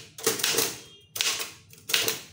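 A manual typewriter types an official secretariat letter in Tamil, giving three close bursts of rapid, loud key strikes separated by short pauses, with no talk.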